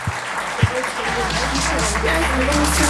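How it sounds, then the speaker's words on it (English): An audience applauds steadily, a dense wash of clapping filling the room after a couple of sharp thumps. "Can we have a big round of applause, please?"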